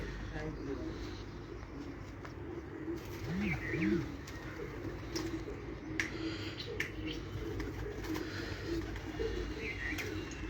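Soft, low pigeon coos repeat in a steady murmur against a busy outdoor background, with faint chirps and voices nearby.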